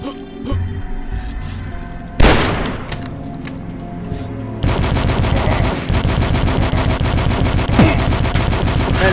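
Rapid gunfire and sharp sniper shots in the Dusk shooter game, loud and close, with a burst near the start, a heavy blast partway through, then sustained rattling fire to the end; faint voice under the shots.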